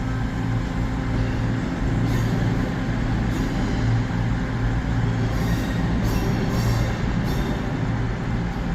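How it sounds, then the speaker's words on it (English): An empty 13-car train passing through Birmingham New Street station, a loud, continuous rumble of wheels and carriages with intermittent high squeals from the wheels. "So it's a 13 car train, it looks like."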